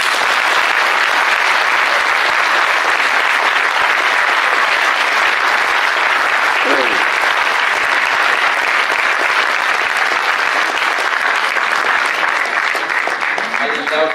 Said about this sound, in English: I would want a round of applause for this.